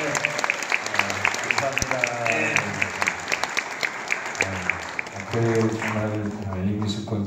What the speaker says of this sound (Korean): 큰 박수로 모시고